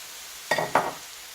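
Leeks, onions, carrots and soy sprouts stir-fry in a pan, two short bursts of hissing sizzle rising as the vegetables are tossed, against a quiet background.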